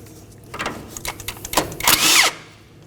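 A 16 mm socket tool works loose the outer tie rod mounting nut on a 2013-2019 Nissan Sentra front steering knuckle: a few short mechanical bursts and clanks build to a louder whirring spin near the end, close and with no talk.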